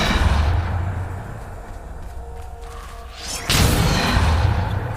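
A spell called Depulso is cast in a PS5 wizarding video game, giving a quick whooshing burst followed by a loud, sudden impact that lingers as a roaring rumble.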